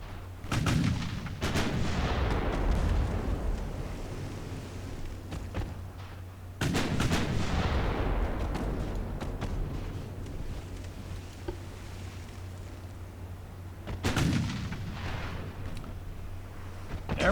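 Naval battle in Ultimate Admiral Dreadnoughts with torpedoes in play: three heavy gunfire salvos land several seconds apart, each a loud sharp blast trailing off into a long rumbling decay, over a steady low hum with no talk.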